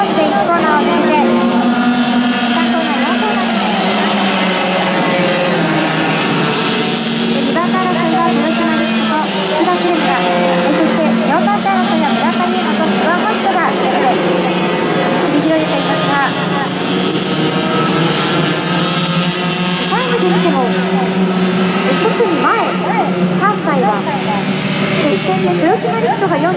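Formula racing cars at Motegi run nose to tail into the first corner while battling for second and fourth, their engines whining loudly and rising and falling in pitch throughout, with a commentator talking over them.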